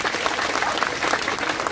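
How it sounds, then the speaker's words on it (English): A seated audience at a Buddhist temple festival gives Lydia steady, dense applause for the whole moment, many hands clapping at an even level with no voices over it. "Lydia, who's sitting here, deserves a round of applause"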